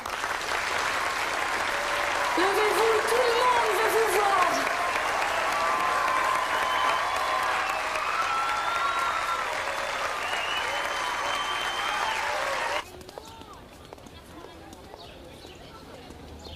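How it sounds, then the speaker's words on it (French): A crowd applauds athletes in a sustained wash of clapping and cheering as a voice speaks over it, then the applause cuts off abruptly, leaving quieter room sound. "Donc, on les applaudit fort."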